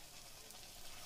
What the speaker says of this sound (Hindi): देसी घी गरम हो गया है, ये देखिए अब हम इसको डालेंगे।